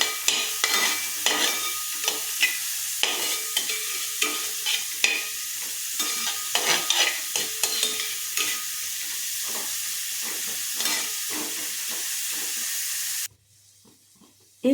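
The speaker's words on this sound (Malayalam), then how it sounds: "ഇനി ഇതെല്ലാമായിട്ട് നന്നായി ഒന്ന് യോജിപ്പിക്കാം." Ragi breakfast ingredients are stirred and mixed in a hot pan, steady sizzling frying with repeated scraping strokes of the spoon, close and continuous before cutting to near silence at the end.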